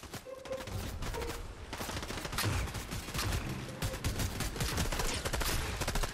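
Rapid gunfire from a mythic weapon in Fortnite, dense continuous bursts of shots that run almost without pause, loud and close.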